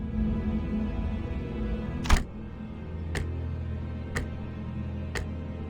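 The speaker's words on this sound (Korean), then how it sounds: "째깍거리는 소리만 들리네." Ticking from a clock-headed character in the video game Limbus Company: four crisp, evenly spaced ticks about a second apart over a low, steady background drone, with no talking.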